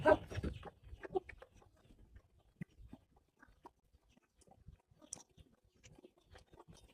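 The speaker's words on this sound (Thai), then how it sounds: "น้องไก่ก็มาคอยกินเศษอาหารค่ะ" Chickens clucking and pecking at food scraps near a wooden eucalyptus pig pen on a Thai farm, a burst of close activity at first, then scattered soft clucks and pecking taps.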